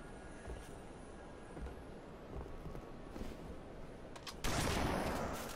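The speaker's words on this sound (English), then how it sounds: "Oh, shotgun right there." Gunfire crackles steadily through a Halo 3 match, with a louder burst near the end that fits a shotgun blast over the ongoing battle noise.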